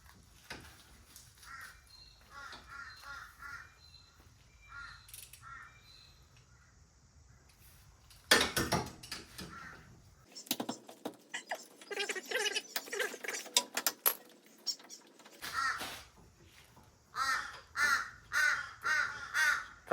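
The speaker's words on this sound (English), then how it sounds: "Pet crow." A pet crow caws repeatedly at close range in short, harsh bursts during a Pajero CV boot repair, with rustling and shuffling between the calls and no talk.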